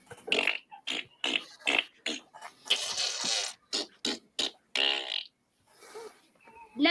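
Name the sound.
voice imitating farting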